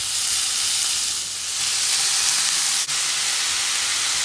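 Bacon frying in its own rendered grease, a loud continuous sizzle and hiss with a single brief dip partway through.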